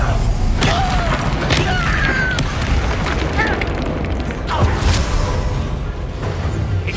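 Spell blasts from the Confringo curse in a Hogwarts Legacy duel, sharp bursts near 0.6, 1.5, 2.4 and 4.6 seconds over a dense, steady battle din with other magic effects and voices around.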